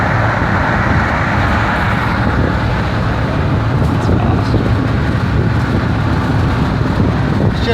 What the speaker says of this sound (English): we passed that truck again